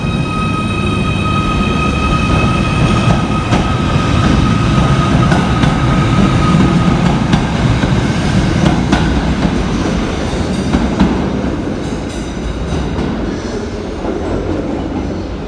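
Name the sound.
Merseyrail class 777 electric train 77722 departing station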